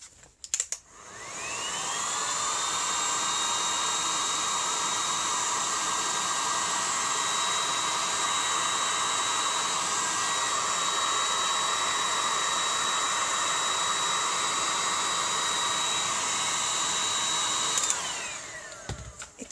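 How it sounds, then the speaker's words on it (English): An electric heat tool melts embossing powder on paper, blowing a steady loud whirring hiss that starts up, runs evenly for about fifteen seconds, then switches off. "And to emboss, I'm using a heating tool."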